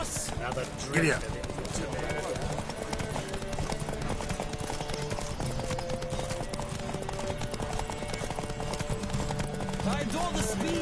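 Galloping horses in a Witcher 3 video game horse race: rapid, steady clip-clop hoofbeats run throughout under game music, with a brief louder thump near the start.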